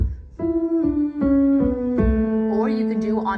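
A singer hums a vocal warm-up, a steady closed-mouth tone stepping through a short sequence of pitches in a clear, close, even pattern.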